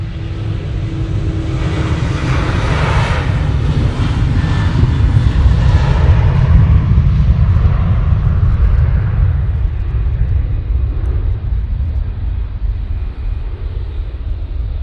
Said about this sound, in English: we've got this Ryanair going off to Derry